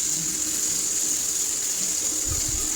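Water goes into a pan of frying chicken, giving a steady, loud, hissing rush with a faint low bubbling near the end and no talk.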